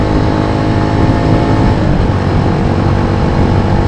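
Kawasaki W175 motorcycle engine, carburetor freshly rejetted with new main and pilot jets, running at steady high RPM on a test ride, a continuous dense drone with no talk.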